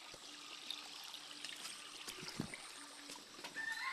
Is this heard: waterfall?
yes